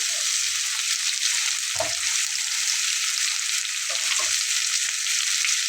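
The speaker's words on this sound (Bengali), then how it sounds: "আলু দিয়ে নাড়াচাড়া করার পরে এখানে আমি ডাটাগুলো দিয়ে দিচ্ছি" Potatoes and added stems fry in hot oil in a pan, a steady, loud, continuous hiss throughout, with a couple of soft bumps from stirring.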